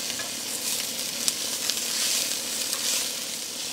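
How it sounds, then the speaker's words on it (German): Chorizo fries in a hot pot, rendering its fat with a steady soft sizzle and a few faint clicks of stirring, no voices over it. "Und jetzt lasse ich einfach in dem heißen Topf die Chorizo ein bisschen aus, also sprich das Fett, das da drinnen ist."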